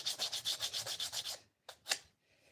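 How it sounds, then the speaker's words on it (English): Wood is sanded by hand with rough 80-grit sandpaper in quick, even back-and-forth strokes, close and crisp. A pause follows, then two short final rubs. "Somewhat of a rough grit. Certainly not a finished grit. But that's our first sand."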